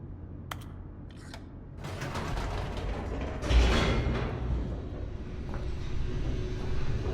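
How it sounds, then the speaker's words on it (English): An elevator descends in the video game The Stanley Parable, its mechanism creaking and grinding in a steady mechanical rumble that swells after a quiet start and holds, with a heavier clunk midway. "The elevator raced downward, plummeting towards an unknown fate."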